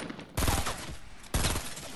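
Two loud bursts of rapid automatic gunfire in the Fortnite video game, close and punchy, the second following the first after about a second.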